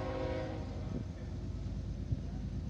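A CSX freight train rolls past in south Florida, a low continuous rumble of wheels and cars with a brief horn note early on, heard from trackside at moderate level.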